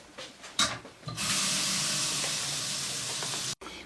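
Water from a kitchen tap runs steadily over vegetables being rinsed in a sink, a near, continuous broadband rush lasting a few seconds before cutting off abruptly, with a few brief clatters just before it starts.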